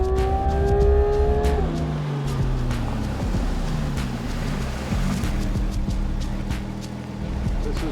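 A Porsche GT3 RS races around a track, its engine note sweeping up and down through gear changes under hard throttle, loud and close from onboard, with heavy wind and road roar beneath.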